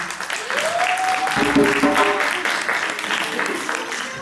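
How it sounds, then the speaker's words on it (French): Children and an audience at an African storytelling performance applaud in a busy, continuous wash of clapping, with a sustained voice sliding over the start and some chatter mixed in. "On peut les applaudir, je les adore."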